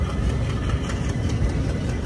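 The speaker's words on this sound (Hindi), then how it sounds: "वो डीजल वाला इंजन वाला" An old diesel locomotive idles at the head of the Boat Mail Express train at Rameswaram, a steady, loud, low engine rumble that runs through the whole clip with no talk over it.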